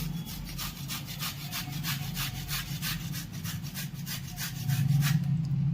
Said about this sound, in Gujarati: હવે આપણે ટોપરાને ખમણી લેવાનું છે.